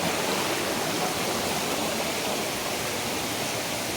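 The waterfall at Ahobilam produces a dense, constant broadband rush of falling water, steady and unbroken.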